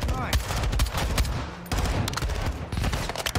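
Rapid bursts of automatic gunfire crackle through a video game shootout in a mess hall, dense overlapping shots with brief pauses, loud and close, with faint voices mixed underneath.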